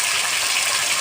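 A little water poured into a cooking pan for a young jackfruit and chicken stomach curry with turmeric and salt: a brief, loud, continuous rushing splash fills the whole moment without pause.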